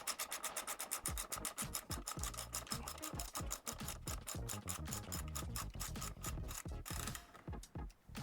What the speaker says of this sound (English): restrain the bottom nut with a 10mm spanner and tighten the top bolt with a 12mm socket.